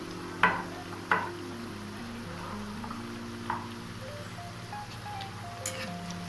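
Paneer pieces frying in oil for a Chinese-style dish: a soft, even sizzle under a low steady hum, broken by a few sharp clinks and taps near the start and end, no voices.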